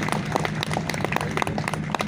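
Loud, dense applause from a crowd at a Republic Day celebration in Uttarakhand, cheering a band performance. Steady, continuous clapping with no break over the short stretch.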